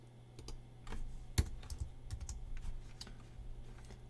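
Keys clattering on a computer keyboard while entering data into a spreadsheet, a steady run of close, light clicks with one sharper tap near the middle, no voices.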